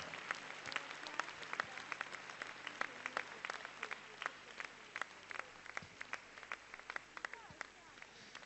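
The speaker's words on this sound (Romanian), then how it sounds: "aplauze pentru Piquinito" An audience applauds after a performance by a young folk dance ensemble at an anniversary concert, with sharp individual claps standing out over a fainter wash of clapping, fairly distant and quiet.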